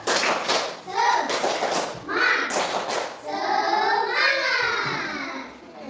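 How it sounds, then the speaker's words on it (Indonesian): Elementary school pupils in a classroom do a spirited rhythmic clapping routine, bursts of hand claps interleaved with young voices chanting along, lively and close throughout. "Tepuk semangat."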